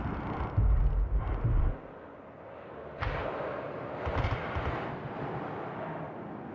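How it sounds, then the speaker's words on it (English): Distant Covenant gunfire from the video game Halo 2 with Halo 3 sounds, heard as low, booming bursts early on and scattered muffled reports afterward, echoing faintly under a steady ambient rumble. "A lot of them are the LOD Covenant gun sounds from Halo 3."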